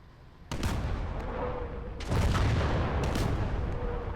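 Tank firing rounds in a battle video game: three heavy booming blasts about a second and a half apart, each with a rumbling tail, loud and close with no talk.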